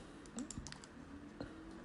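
A computer mouse clicks a few times in quick, light taps at close range, with a short cluster of clicks followed by one more after a pause, against a quiet room background.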